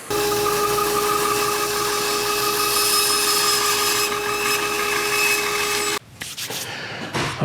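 A bandsaw cuts a wooden bowl blank round for woodturning, a loud continuous whining cut with a steady tone, then the blade stops and handling noises follow.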